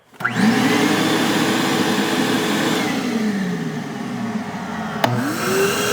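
A DeWalt Stealth Sonic wet/dry shop vacuum switches on and runs with a steady, loud whooshing roar, cuts off briefly near the end, then starts up again.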